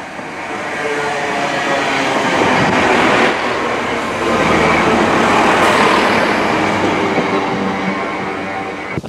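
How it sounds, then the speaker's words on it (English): A Chiltern Railways Class 165 diesel train rumbles into Lapworth Station close by, a steady, loud roar of engine and wheels on rails swelling and holding throughout. "that Chiltern Railway service that arrived, that Class 165"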